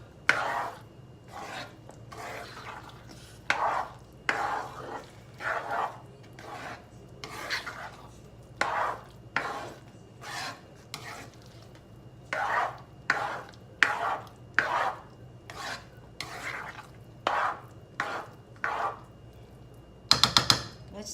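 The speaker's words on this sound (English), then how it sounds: "once in a while, you have to stir the rice so it doesn't stick on the pan" A utensil stirs rice in a pan with a regular series of close scraping strokes, about one every second, and a few louder knocks near the end.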